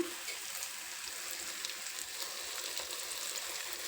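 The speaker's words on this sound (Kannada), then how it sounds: "ಕಾಯಿ ಹಾಕಿದ್ದೀನಿ ಅದು ಸ್ವಲ್ಪ ಫ್ರೈ ಮಾಡಿ ಆಗಿದೆ" Grated coconut frying in a pan with tomato and oil for avalakki upma, a steady, close, even sizzle with a soft crackle that holds at the same level throughout, with no talking.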